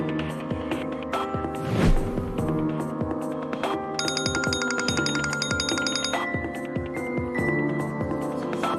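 A phone rings unanswered, a repeating electronic ringtone pattern pulsing steadily over quiet background music.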